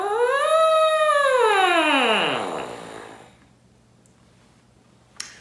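A French horn mouthpiece is buzzed on its own, giving a loud, reedy tone that swoops upward, holds, then slides down and fades out, followed by a small click.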